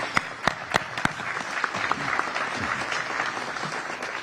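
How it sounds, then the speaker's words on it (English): An audience at a Jefferson County Republican candidate forum applauds, opening with a few sharp distinct claps before swelling into a steady, moderately loud round of clapping. "Give them a round of applause for being here."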